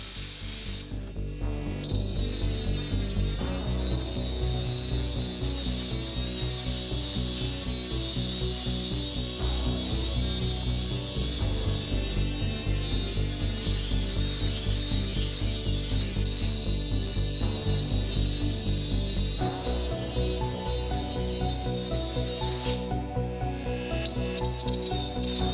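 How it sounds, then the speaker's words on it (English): Bosch 12-volt jigsaw cutting 2mm sheet metal with a loud, continuous rapid rattling buzz of the reciprocating blade, sustained almost unbroken for the whole stretch with only brief dips in tone. "So my 12-volt jigsaw does this job way faster."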